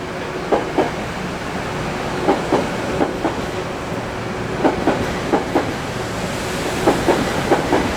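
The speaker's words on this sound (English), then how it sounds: "last train of the outing would be 8746, with the old Bud cars on its way to Grand Central Terminal." Train 8746, made up of old Budd rail cars heading toward Grand Central, rolls past with a rhythmic clickety-clack of wheels over rail joints in paired beats over a steady rumble and hiss.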